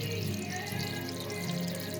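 Water from a cascade aquarium filter pours steadily into the tank, a soft, continuous splashing trickle heard faintly and alone.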